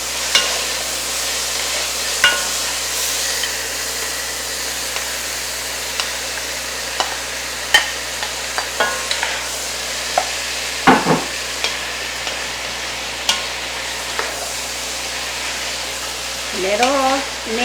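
Potatoes frying and being stirred in a pot for Mexican cheese soup: a steady, close sizzle with repeated scraping clicks from a utensil against the pot.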